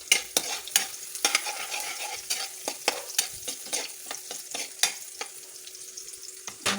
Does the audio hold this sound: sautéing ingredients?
yes